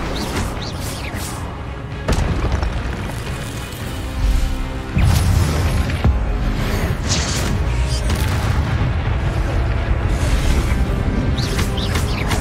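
Spell-casting explosions in the Hogwarts Legacy video game: repeated loud booms, crashes and whooshes layered over a dense bed of game effects, with no clear talk.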